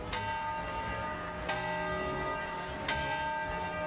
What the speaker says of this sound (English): the Victory Bell is one of the Ohio State University's loudest and proudest traditions